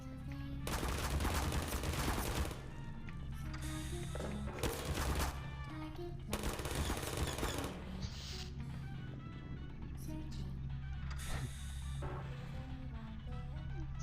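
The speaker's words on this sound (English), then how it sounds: "Stop shooting me." Turrets in the video game Portal fire at the player in loud, rapid bursts of gunfire, separated by short gaps, with a low engine-like hum underneath.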